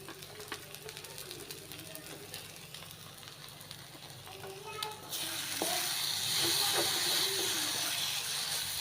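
Vegetables for a vegetable biryani fry in a pan while being stirred with a spatula; a soft sizzle with scraping stirs grows into a louder, steady hiss partway through.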